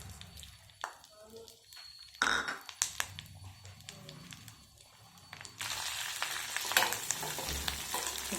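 Dried red chillies, cumin, mustard seeds and garlic frying in ghee for a tempering, a crackling sizzle that swells louder in the latter half, with a few stirring knocks.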